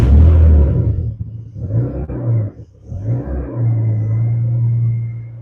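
A 2006 Jeep Liberty engine rumbles loud and close as it starts, then settles into a steady low idle, with no voices.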